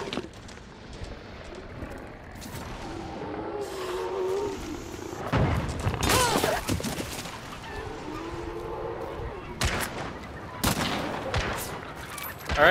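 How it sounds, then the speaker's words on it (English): Gunfire during a video game gunfight, with scattered bursts and sharp cracks spread across the stretch amid muffled game ambience, some shots loud and close, others fainter. "All right, I'm in a gunfight."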